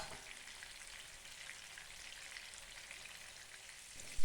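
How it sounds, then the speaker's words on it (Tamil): Pieces of fish frying in hot oil for fish biryani give a steady, dense sizzle with fine crackling throughout, close and continuous, with no voices. "மீன் பிரியாணிக்கு மீனை வந்து பொரித்து வைக்கும்போது தான் அது வந்து உடையாமல் கிடக்கும்."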